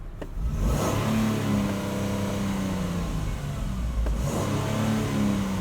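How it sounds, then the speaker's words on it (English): Ford Transit racing van with a V6 engine revved while stationary, two loud close surges that climb and fall back to a steady idle, with no talk. "let me rev the engine for you."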